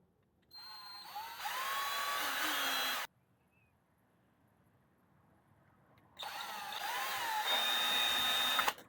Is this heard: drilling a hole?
yes